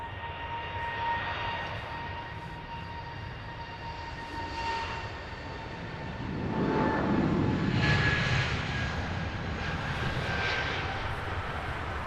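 An airliner at Heathrow Airport passes as a sustained, far-off engine roar that swells partway through and then holds a steady rumble and whine, with no voices heard.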